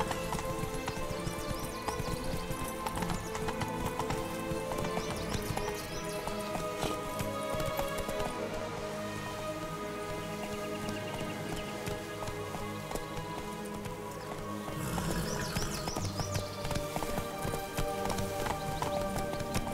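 Horse hooves clip-clopping at a steady gallop in the video game The Witcher III, with a rainy ambience and a brief whinny over a continuous game music bed.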